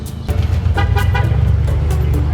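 A loud car with no muffler, somewhere in Princeton, Illinois, drives off with a steady heavy engine roar and a horn-like blare, and the sound stays strong the whole way through.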